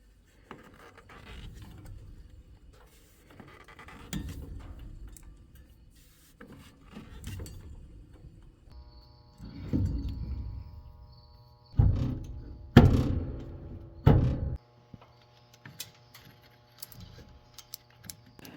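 A completely failed, destroyed combine bearing makes intermittent bursts of rough scraping and grinding, separated by quieter ticking and rattling, with the loudest rasping stretches near the end.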